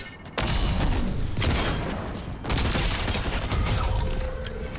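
Rapid SMG fire from a Stinger submachine gun in a battle royale shooter, dense continuous bursts with a brief gap around the middle, loud and close with game effects layered in.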